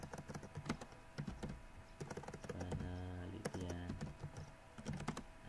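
Quick, irregular clicks of fingers typing on a computer keyboard, fairly quiet and close, coming in short bursts with brief pauses and a faint low hum underneath.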